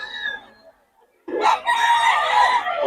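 A Sweater-breed gamecock rooster crows loudly and close by, a long full cock-a-doodle-doo following a shorter call and a short pause, with faint crowd murmur behind.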